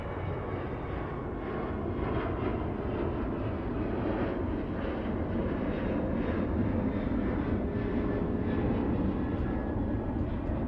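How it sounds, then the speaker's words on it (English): An airplane approaching to land at DFW Airport produces a steady, broad engine roar that stays at a constant moderate level from a distance, with no speech over it. "Well, this plane is almost here."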